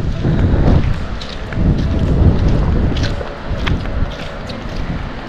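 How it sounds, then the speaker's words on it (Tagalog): Steady gusty wind rushes across an outdoor spot near a waterfall, buffeting the microphone with a low continuous roar that swells and eases. "Medyo mahangin tapos malamig."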